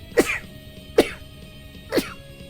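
A person sneezes three times in quick succession, about a second apart. Each burst is sharp and close, with quiet in between.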